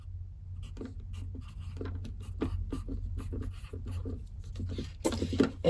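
A pencil scratches across the pages of a hardbound journal in close, quick strokes and taps, the marks coming in irregular bursts, with a louder rustle of paper near the end.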